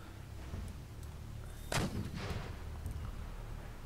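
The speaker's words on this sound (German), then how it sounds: "Da fliegt gerade übrigens eine Kugel." Cannon fire during a siege battle in Empire: Total War, heard as one loud, close blast partway through against a constant rumbling battlefield background, with fainter distant reports around it.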